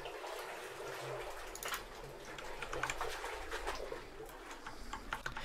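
Cave water Foley without erosion comes through as a continuous trickle and patter of dripping water, with scattered brighter splashes and a steady level, no voices.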